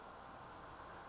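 Pen writing out a college algebra problem, a brief, faint scratch with a few quick strokes, alone and close.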